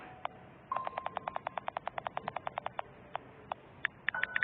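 Phone message notification inside the Roblox game: a rapid run of short, evenly spaced electronic beeps, followed by a few sparser tones and a brief burst of chirps at the end.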